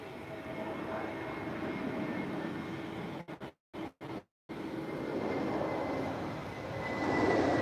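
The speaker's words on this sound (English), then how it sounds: "Is that an A320?" An Airbus A320 airliner at Lisbon Airport on a cloudy, windy evening, heard as a loud, steady roar of jet engines that drops out briefly midway, then swells again, with no talk over it.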